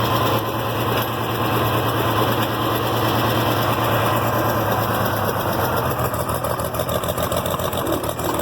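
An International Harvester Farmall 706 tractor with a newly fitted carburetor pulls away in third gear, its engine droning loud and steady up close for several seconds with no one talking.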